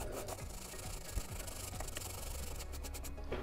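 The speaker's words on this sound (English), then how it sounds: "I'm going to take a sanding stick and just make sure that's nice and smooth" Sanding stick rubbed back and forth over a flush seam on a homemade Boba Fett jet pack prop, giving a steady close scratchy rasp with continuous short strokes throughout and no talking.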